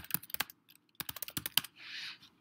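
Quick bursts of typing on a computer keyboard, clustered clicks and keystrokes close by, followed by a brief soft hiss.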